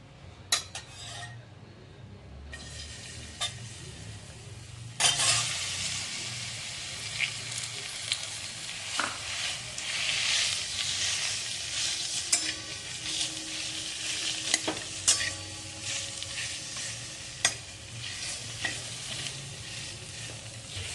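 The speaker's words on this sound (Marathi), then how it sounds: "याच्यावर जे खजूर आहे ते आपण परतून घेणार आहोत" Dates sizzle steadily in hot ghee in a wok while a utensil stirs and scrapes against the metal, with occasional clinks, close up and without talk.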